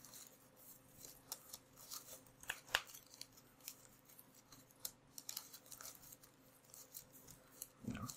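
A large deck of Magic: The Gathering cards is shuffled during a tabletop game, giving faint, scattered riffling and soft card slaps in irregular bursts against a quiet room hum.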